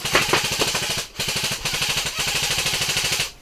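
An airsoft gun fires rapid bursts during an airsoft game, loud close-up mechanical pops in fast, steady rhythm with two brief pauses between strings.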